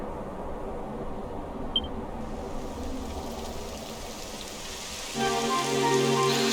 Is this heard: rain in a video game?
yes